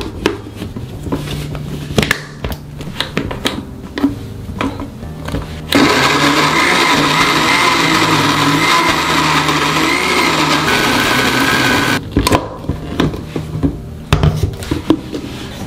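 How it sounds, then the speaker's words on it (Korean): A blender grinds kimchi seasoning with salted shrimp, plum syrup and a little water, a loud, steady whirring roar lasting about six seconds, set between bursts of knocking and handling noise. "새우젓도 1스푼 넣어서 같이 갈아줄 거예요."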